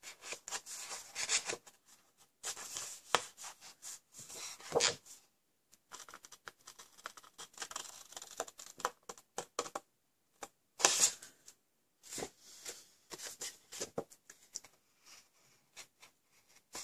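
Cardstock is trimmed with scissors along score lines while making a cracker-top box, bringing close, quiet snips and papery rubbing in short, irregular bursts separated by pauses.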